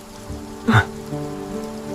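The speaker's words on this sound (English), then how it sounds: "The rain is getting lighter." Rain falls steadily in the background over a soft sustained tonal bed, and a brief louder splash cuts through about midway.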